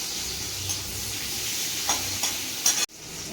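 Chopped garlic and onion frying in a little oil in a home kitchen, a steady soft sizzle with a few light stirring scrapes and a brief clatter near the end, no talking.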